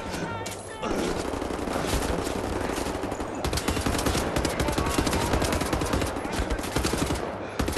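Dense, continuous automatic gunfire in Wolfenstein The New Order, rapid rattling shots sustained nearly throughout with a brief quieter lead-in at the start.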